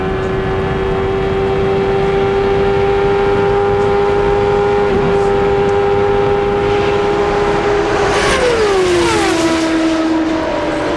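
Onboard Nigel Mansell's CART race car leading at Michigan in 1993: a loud, sustained high-pitched engine howl at steady throttle that dips sharply in pitch near the end as the revs drop.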